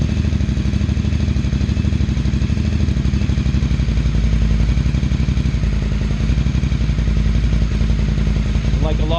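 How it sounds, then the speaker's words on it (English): Air-cooled Ducati 800 Scrambler track bike on its first start, engine running loud and close with a rapid, even throbbing beat and a little throttle held to keep it alive. "Just giving it a little bit of throttle to keep it running."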